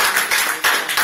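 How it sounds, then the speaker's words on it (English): Crowd applause in bursts, dense clapping from many hands nearby, rising and falling in a few quick surges over about a second, with no talking. "Everybody, that deserves an applause."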